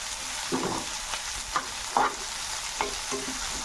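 Capsicum, carrot and cabbage being stir-fried in a pan for veg hakka noodles. Soft spatula scrapes and tosses sound over a gentle, steady sizzle, close and fairly quiet.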